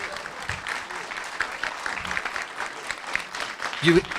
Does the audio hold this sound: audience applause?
yes